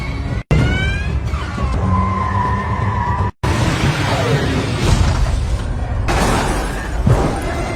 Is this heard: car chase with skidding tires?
yes